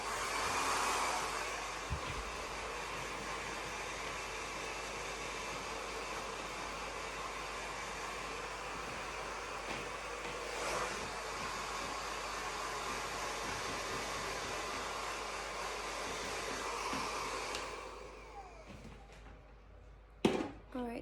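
A Harry Josh Ultra Light Pro hair dryer blows steadily on curly hair, a close, continuous whooshing hum lasting about seventeen seconds before it switches off, followed by a couple of clicks.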